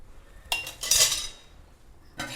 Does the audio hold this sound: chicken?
no